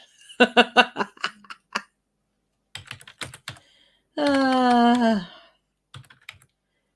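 Clusters of quick computer keyboard keystrokes in short, loud bursts separated by silences, interrupted by a long sustained tonal sound near the middle.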